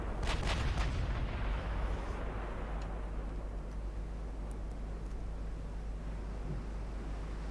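Naval guns fire in a burst of heavy booms at the start of an Ultimate Admiral Dreadnoughts sea battle, then the sound settles into a steady low rumble with scattered faint distant thuds and no voices.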